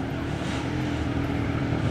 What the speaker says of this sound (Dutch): En op zo'n motor rijdt onze nummer 55, Jan van Zuik, op de BSA